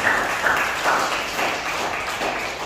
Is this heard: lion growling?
no